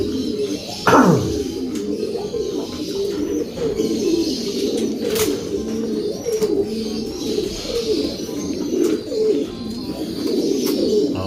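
A pigeon hen coos repeatedly in soft, rolling phrases over a steady murmur of other birds in a loft, with one sharp wingbeat or flutter near the start.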